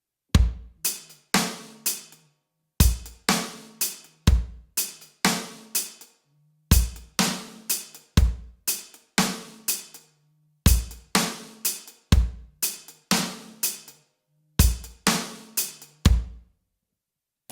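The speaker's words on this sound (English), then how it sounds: "Okay, so if you just played that with the kick and snare part, it sounds like this" Drum groove played on kick, snare and hi-hat alone without ghost notes, a steady repeating pattern of sharp snare cracks and thumping kicks with ringing tails, close and loud with no talking.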